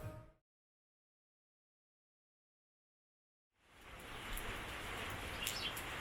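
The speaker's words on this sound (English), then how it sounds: "It's a rainy day today" Steady rain falls outdoors on a rainy day in the Philippines. After a few seconds of near silence, a dense, even hiss of rainfall begins and continues, with a faint chirp or two on top.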